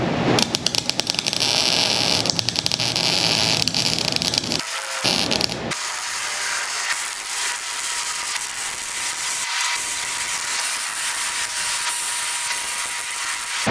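A wire-feed welder joins steel bed braces on a 1960-66 Chevy C10 pickup, set to a low wire speed, giving a loud, steady crackling hiss that breaks off briefly twice before carrying on, with no talking.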